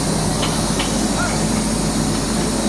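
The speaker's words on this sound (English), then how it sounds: "The water is being filled in this steam engine." Water pours into an old steam locomotive on a heritage toy train railway in India, producing a steady, loud, broadband hiss and rush that continues without a break for the whole stretch, with faint background noise under it.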